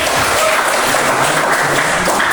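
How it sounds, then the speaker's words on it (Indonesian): A classroom full of students applauds a student group, dense steady clapping at close range for a couple of seconds. "kasih aplaus dulu untuk kelompok"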